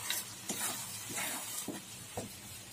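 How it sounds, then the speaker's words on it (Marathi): A spoon stirs sweet potato halwa with almonds and cardamom in a pan, several soft scraping strokes in a slow rhythm over a faint sizzle, close and quiet. "व्यवस्थित मिक्सअप करून घेऊया"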